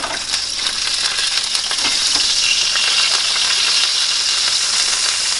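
A burger patty sizzles in a hot pan over medium heat, a loud, steady, close frying hiss with faint pops and crackles throughout, with no talking.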